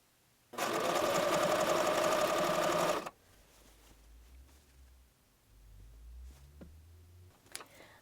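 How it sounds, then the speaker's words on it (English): A sewing machine with a zipper foot stitches a corset boning channel, a loud close buzzing run of about two and a half seconds, followed by quiet handling noises. "I sewed one side of the channel, pinned the zip tie in place, and used my zipper foot to get as close as possible to the zip tie"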